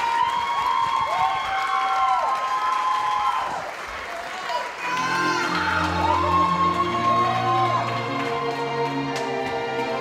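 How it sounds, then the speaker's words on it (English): Audience applause at a Dancing with the Stars dance show in Auburn, a steady dense wash of clapping with cheers that carries on throughout while music plays over it. "Big round of applause."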